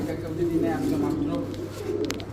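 A jumbo-sized female Lahori pigeon coos in low, soft throaty rolls, close by, with a steady hum in the background and a few light clicks near the end.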